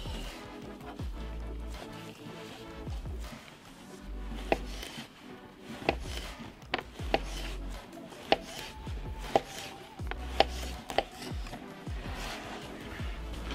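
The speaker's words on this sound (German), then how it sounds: "In der Zwischenzeit schneiden wir dann auch noch unseren Bacon und die Cabanossi einfach in Streifen oder Stücke" Bacon and cabanossi sausage being cut into strips on a board for a Dutch oven bean stew, irregular sharp knife taps and chops over a low background rumble.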